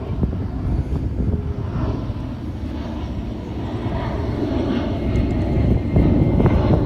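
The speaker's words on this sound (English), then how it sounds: "So like, I'm gonna let this plane go by." An airplane passes overhead outdoors, a loud, steady low engine roar filling the scene and swelling slightly toward the end, with no talking.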